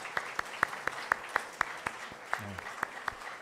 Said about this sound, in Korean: 다시 한번 큰 박수 한번 부탁드리고요.